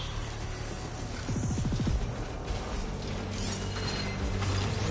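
Robotic machine creatures moving in the Horizon Forbidden West video game, a continuous mechanical whir and ratcheting creak with grinding, gear-like clicks, heard alone at moderate loudness over a dense game soundscape.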